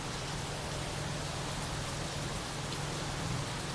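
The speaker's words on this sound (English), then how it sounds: "I'm semi-tempted to put the microphone like right on the edge so you can hear the rain more" Steady rain falls in Tokyo's Dome City area, a dense continuous hiss of drops striking surfaces close to the microphone, even and unbroken throughout with no voices.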